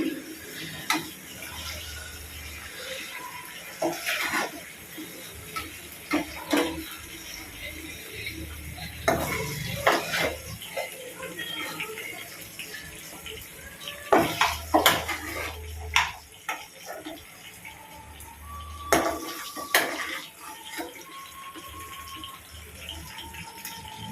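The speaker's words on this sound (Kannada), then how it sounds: "ಸೊ ನಾನು ಇದನ್ನ ತೆಗೆದುಬಿಟ್ಟು ಇನ್ನೊಂದು ಪಾತ್ರೆಗೆ ಹಾಕ್ಕೊಳ್ತೀನಿ ಬರೀ ಚಿಕನ್ ಪೀಸಸ್ಗಳನ್ನ ಮಾತ್ರ ಹಾಕ್ಕೊಳ್ತೀನಿ" Pieces of ghee roast chicken are moved into another pot, heard as intermittent scraping, clinking and knocks of utensils against metal cookware, close and moderately loud, with occasional faint talk.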